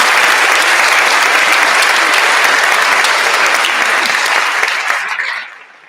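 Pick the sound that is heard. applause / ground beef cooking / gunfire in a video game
applause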